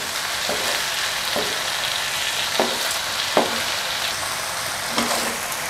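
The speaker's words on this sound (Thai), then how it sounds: "ก็ใส่ไข่นะครับ เดี๋ยวเราจะรอให้ไข่เริ่มสุกสักครู่หนึ่งก่อน" Egg sizzling with softened vegetables in a frying pan for stir-fried instant noodles, a steady hiss with several sharp scrapes of a utensil against the pan, no talking.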